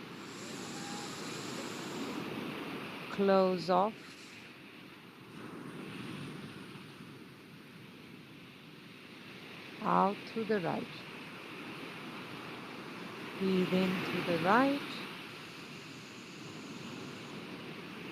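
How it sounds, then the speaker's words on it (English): Recorded ocean wave sounds play as a soft, steady wash of surf and wind noise under a yoga instructor's calm breathing cues, which come in three short spoken bursts. "I hope you can hear the ocean sounds."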